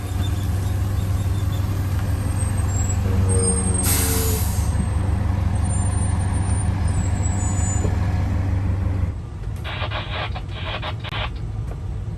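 An RV motorhome towing a car pulls out, its engine rumbling steadily up close, with a sharp hiss of air brakes releasing partway through and a few fainter clicks and rattles near the end.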